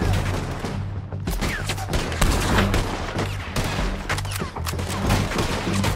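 Rapid gunfire in Red Dead Redemption 2 during a bounty-hunting shootout: dense, overlapping volleys of shots crackle continuously and loudly, with booming reports layered over a low rumble.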